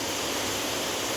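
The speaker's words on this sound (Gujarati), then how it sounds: "જો ચેટલો બધો વરસાદ પડે" Heavy rain pours down steadily in an open field, a dense, close hiss of water with no pauses or distinct drops standing out.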